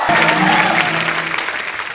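A large audience claps steadily and loudly throughout, a dense wash of applause with some crowd noise mixed in.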